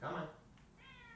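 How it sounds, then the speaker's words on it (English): A pet cat meows to be let inside, one loud drawn-out meow at the start followed by a softer, higher whining call, heard fairly close in a quiet indoor setting. "One second, I gotta let my cat inside. I can hear her."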